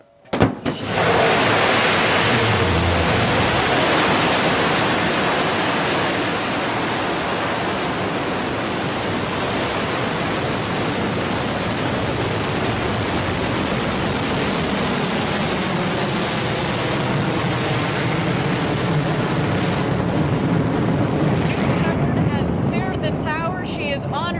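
The engines of a Blue Origin New Shepard rocket ignite at launch with a sudden burst, then settle into a steady, loud, broadband roar that continues unbroken for more than twenty seconds.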